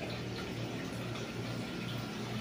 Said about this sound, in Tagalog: Siyempre bago tayo maligo sa swimming pool, kailangan nating mag-shower muna